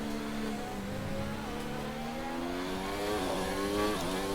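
A Formula 1 race car in a video game launching from a standstill after a clutch release, its engine whine climbing steadily in pitch over a continuous roar, close and loud with no talking.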